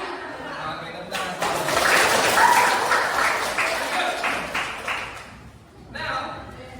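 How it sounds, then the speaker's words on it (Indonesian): Students in a classroom break into a burst of clapping that swells and holds for several seconds before fading, with a short second round at the end, close and fairly loud. "Oke, tepuk tangan."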